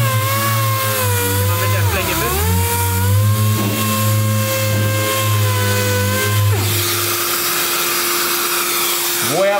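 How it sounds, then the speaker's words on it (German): A random orbital sander on carbon fibre side panels of an Audi RS4 saloon: a steady, droning whine with strong tonal harmonics that dips briefly, then shifts to a harsher, hissier grinding tone toward the end. "So, und dann schleift er halt nur exzentrisch"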